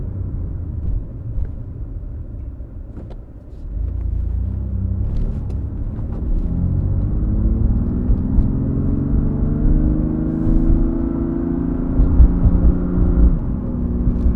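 A BMW M2 Competition engine rumbles steadily from inside the car, window slightly down, its low drone rising smoothly in pitch as it revs up, with no talking.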